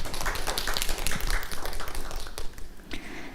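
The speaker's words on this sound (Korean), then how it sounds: "박수로 보내주시기 바랍니다" A small audience at a high school student forum claps briefly, the patter loud and close at first, then thinning out toward the end.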